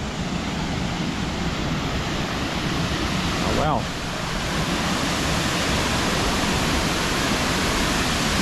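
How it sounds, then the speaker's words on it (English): A waterfall in flood crashes beside a running river at a campground, a loud, steady, full roar of rushing water that fills the whole scene, with a brief voice exclaiming midway. "I can already see the river running through and hear the crashing of the waterfall"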